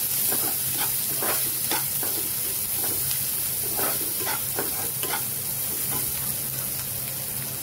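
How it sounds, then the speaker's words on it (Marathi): Chopped onion frying in a pan while being stirred, as the first step of a spicy green chilli curry: a steady sizzle with repeated scraping strokes of the spatula, close and alone with no talk. "कांदा जरा वर खाली करून घेतो."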